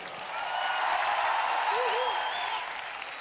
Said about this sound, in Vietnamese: Chúng ta hãy cho võ sĩ ở góc đài đỏ một tràng pháo tay.